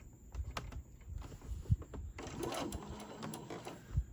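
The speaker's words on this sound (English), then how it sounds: "I'm going to back stitch, and then I'm going to sew off the end right there" A sewing machine back stitches through fabric during a craft project, running in short bursts of rapid mechanical stitching with a quick pause between passes, close by and fairly quiet.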